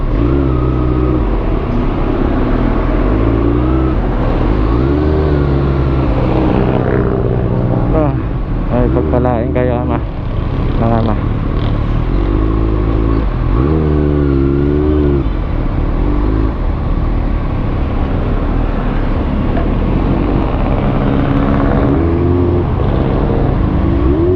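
Road traffic passing close by, with engines humming, rising and revving continuously under a busy street din, and a few voices and tonal calls mixed into the steady noise.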